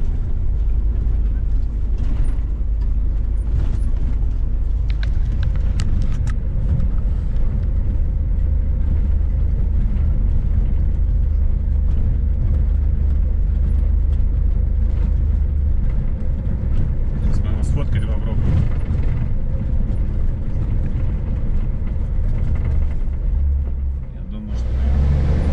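BelAZ mining haul trucks drive along their own road at the Tugnuy coal mine. A steady, heavy low engine rumble holds throughout at close range, with voices talking over it.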